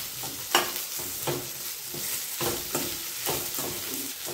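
Cashews and onions frying in a pan for shahi paneer, a steady broad sizzle broken by repeated scraping stirs of a spoon every half second or so, close and moderately loud with no talking.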